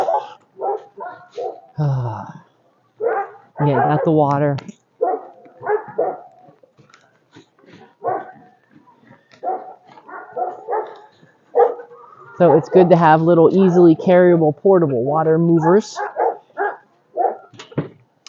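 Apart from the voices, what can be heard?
dogs barking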